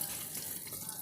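Water pouring from a hose into a portable twin tub washing machine, a steady close hiss of filling water with no breaks.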